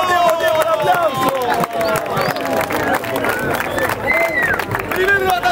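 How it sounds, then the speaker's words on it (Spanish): A crowd at a 2v2 rap battle claps and cheers, with scattered applause and babble under loud, excited voices. "¡Un aplauso!"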